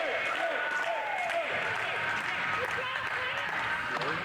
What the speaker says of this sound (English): The crowd chanting for him